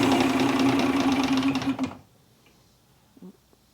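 A carbureted boat engine runs with a rough, rapid knocking rhythm, loud and close, then cuts out abruptly, leaving near silence with a faint click afterward.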